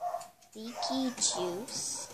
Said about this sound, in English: Sorry if you hear that, it's my puppy barking.